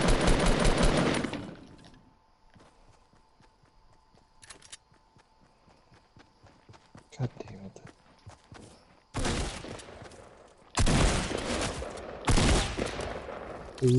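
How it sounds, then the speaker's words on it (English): Bursts of rapid automatic gunfire from a shooter video game, loud, dense rattling volleys at the start and again near the end, with quieter scattered footsteps and faint shots in between. "Start shooting at him."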